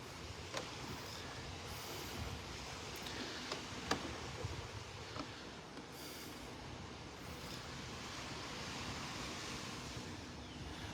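Quiet surf washes steadily along a beach in North Naples, Florida, a soft continuous wash with occasional faint ticks and no voices.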